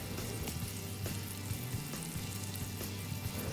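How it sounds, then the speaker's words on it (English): Bacon sizzling on a Blackstone 36-inch griddle over a low burner, a steady, faint crackle and hiss with no voices. "So just continuing to move the bacon from one side to the other, let the heat come from the other side of the griddle on a low burner"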